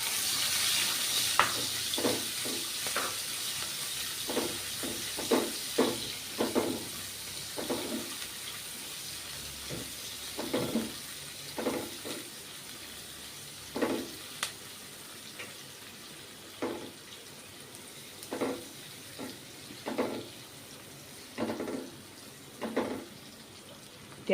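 Onions sizzling in oil for white potato biryani, a steady hiss under repeated stirring scrapes and clinks in an uneven rhythm, close and moderately quiet.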